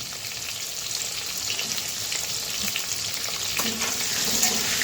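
Pointed gourd frying with a little turmeric and salt in a pan, a steady hissing sizzle that swells slightly toward the end, with a few stirring clicks and no talk.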